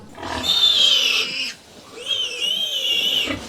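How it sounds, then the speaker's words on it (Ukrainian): Two loud, harsh pig squeals, each lasting over a second with a short gap between, very close and mixed with rough grunting, on a sow and piglet farm in Ukraine's Vinnytsia region. "Нині на їхній фермі вісім свиноматок і півсотні поросят."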